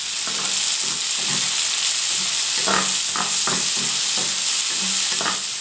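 Garlic and frozen peas fry in a pan, giving a loud steady sizzle under a string of scraping and clattering stir strokes, close and continuous with no talking.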